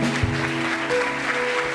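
Church congregation applauding during a worship service, a steady dense wash of clapping with sustained musical tones underneath, moderately loud throughout.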